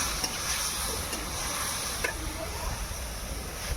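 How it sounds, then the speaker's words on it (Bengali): Chana dal stirred in a hot pan with frying greens, a steady close sizzle with soft scraping strokes and a small knock near the middle, alone. "এবার ছোলার ডালটা দিয়ে দেবো।"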